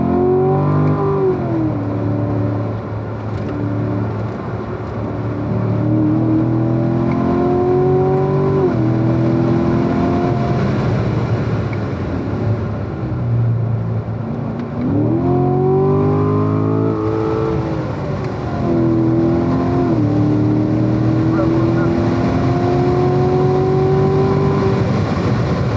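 Corvette Grand Sport engine driven hard around a race track, revving up through the gears with rising pitch sweeps, lifting off and accelerating again, loud and close throughout with no talk.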